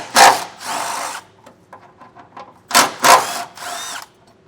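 A power tool drives a 13mm socket to remove a brake-line bracket under a 2021 Chevrolet truck, with several loud, close whirring bursts broken by brief pauses and faint clicks.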